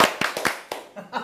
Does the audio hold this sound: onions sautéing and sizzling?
no